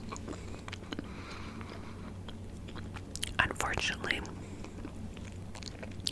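Close, soft gum chewing with moist clicks and smacks in irregular rhythm, partly under quiet whispered talk, with a brief busier burst of mouth sounds midway.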